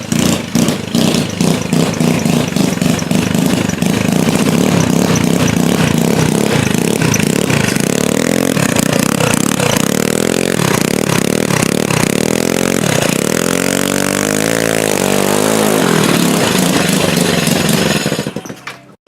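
A go-kart engine runs loud and close for nearly twenty seconds, a harsh rapid clatter that swells through repeated revs and drops back before cutting off at the end.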